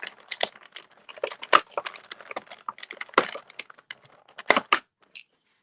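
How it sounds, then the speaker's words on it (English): Scissors or a multi-tool cut open the plastic packaging of a Masterverse New Eternia Beast Man toy, giving close, sharp snips and crinkling crackles in irregular bursts, with no talk. "You can see my scissors at work here, or my multi-tool."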